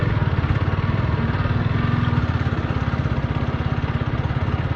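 A motorcycle engine thrums close by with a steady rapid pulsing beat while riding along a village embankment, loud and continuous with no talking.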